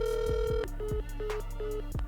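Phone ringback tone on a forwarded call, several repeated electronic rings in a steady on-off pattern, clear and close with no talking.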